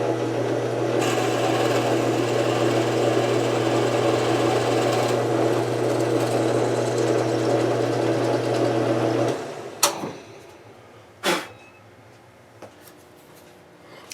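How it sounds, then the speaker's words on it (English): A power drill whines steadily for about nine seconds while drilling a hole in a guitar's wood for a fastener, then cuts off, followed by a few sharp knocks and clatters. "now we'll drill the deeper hole to take the wood threads of that fastener"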